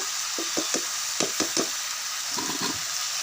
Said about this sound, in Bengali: দিয়ে এটা ভালো করে কষিয়ে নেব